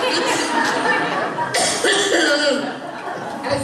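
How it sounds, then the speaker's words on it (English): A single cough rings out in a church sanctuary, close and fairly loud, with laughter and murmuring voices mixing around it. "including this cough"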